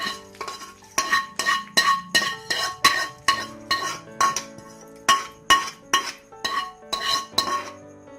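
Rapid metallic clinks of a spoon against a pot as tempering is stirred into ghee pongal, a brisk regular rhythm of sharp taps close up with no talking.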